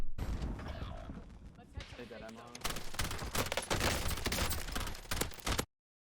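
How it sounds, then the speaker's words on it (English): Rapid gunfire bursts and heavy shooting in Call of Duty Warzone, loud and dense, crackling shots overlapping with booms for several seconds before cutting to silence. "It took me about 5 bursts to kill that guy."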